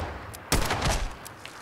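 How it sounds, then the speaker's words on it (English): A single loud gunshot blast in Fallout 4, with a broad crack followed by a short rumbling tail and a faint second report, heard alone without talk. "you gotta shoot this guy in the head"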